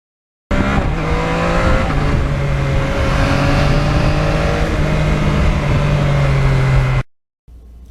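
2020 Yamaha MT-09 motorcycle with no muffler, only a catalytic converter and exhaust outlet, revving loudly up close in one continuous rising and holding run before cutting off abruptly.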